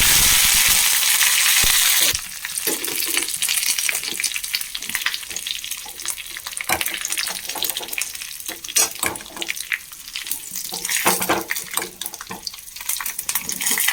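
Fenugreek seeds, dried chilies and curry leaves crackle and sizzle in hot oil, loud and continuous up close, with scattered pops and spatters that rise and fall through the frying.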